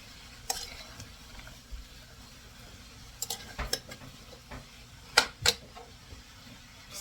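Spoon stirring vegetable egg roll filling in a pan, a few scattered scraping and clinking knocks over a quiet, faintly sizzling background, with no talk.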